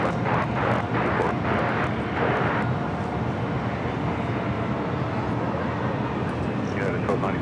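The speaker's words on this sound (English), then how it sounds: "That flight heading to La Jolla is 737 MAX 8, United Airlines flight 1295." A United Airlines Boeing 737 MAX 8 takes off at LAX, a loud, steady broadband engine roar holding for several seconds, with people talking over it.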